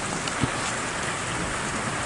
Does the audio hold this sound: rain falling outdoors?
yes